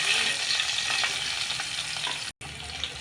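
Carrots and green chillies sizzle steadily in a hot pan for a masala oats snack, with a dense, continuous frying hiss and occasional stirring scrapes, close and fairly loud, broken by one brief dropout.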